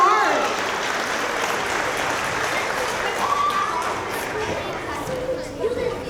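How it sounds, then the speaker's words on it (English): Audience applauding a third grade orchestra at a school evening concert, a steady dense wash of clapping that fills the room for several seconds, with some children's voices and chatter mixed in. "Can we give this group a round of applause before they even start?"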